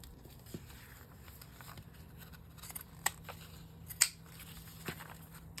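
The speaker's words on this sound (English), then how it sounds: "So let's cut that. I guess I need these scissors again." Scissors snip through junk mail paper at a craft table, a few faint, scattered cuts with soft rustling between, two sharper snips standing out near the middle and later.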